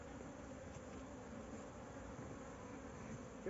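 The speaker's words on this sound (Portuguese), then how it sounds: "Nossa saga continua com o nosso enxame do pneu, que hoje está enorme" A large honeybee swarm lodged inside a tyre hums in a steady, continuous drone, close and even throughout with no voices.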